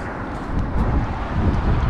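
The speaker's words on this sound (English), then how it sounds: "The wind kind of blowing a little bit." Wind gusts across the microphone outdoors at a catfish fishing spot, a steady low rumbling buffet that swells and eases over two seconds.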